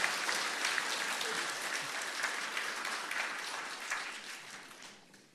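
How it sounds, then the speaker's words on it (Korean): A church congregation at a Korean Sunday worship service applauds warmly and steadily, a dense wash of many clapping hands that carries on at an even level before fading toward the end. "우리 인사하실 때 한번 힘차게 박수하시겠습니다."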